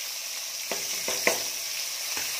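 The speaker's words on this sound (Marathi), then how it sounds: "या ठिकाणी सुक्यासाठी तेल ठेवलेलं आहे आणि आता टाकत आहे कांदा" Onion frying in hot oil for a dry coconut-onion sukka with chicken, a steady sizzle with a few sharper crackles and pops, close and moderately loud, with no talking.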